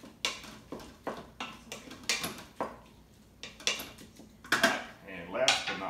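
Sesame oil being stirred into Korean beef in an Instant Pot, with a spoon scraping and clinking against the metal pot in uneven repeated strokes, close and clear.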